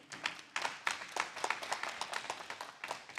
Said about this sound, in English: So seniors, give your parents a round of applause.